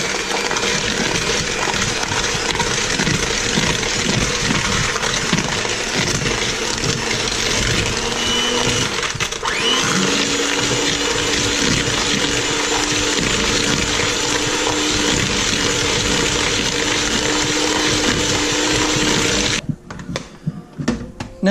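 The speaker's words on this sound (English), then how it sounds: "taking the hand mixer and we're going to cream together the butter and sugar" A hand mixer creams butter and sugar for cookie dough, a dense continuous whir with a rough, grinding texture that shifts slightly in pitch midway, loud and close, then cuts off near the end leaving a few faint knocks.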